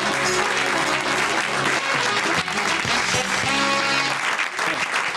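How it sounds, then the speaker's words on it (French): A studio audience applauds loudly and without a break, a thick, even wash of clapping that holds for several seconds over faint music. "On applaudit Clarence Jacquard."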